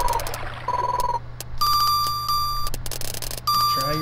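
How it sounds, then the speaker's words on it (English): From the SNES fishing game Bassin's Black Bass, electronic beeps repeat in short, steady bursts. They sit over a low game hum and end in a quick falling jingle. "You hear that beeping sound, you want to let up"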